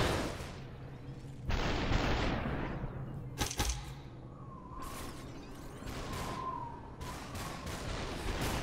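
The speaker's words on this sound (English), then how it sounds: "it's on, like, burst fire." Gunfire in the video game Superhot, with the weapon set to burst fire: several sharp bursts go off at irregular intervals against a low game background and a few rising whooshing tones.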